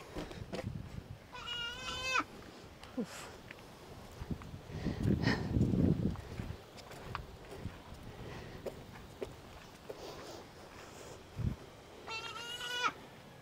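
A goat riding on the passenger-side floorboard of a vehicle bleats twice, close by, once near the start and again at the end, with soft rustling and shuffling between the calls.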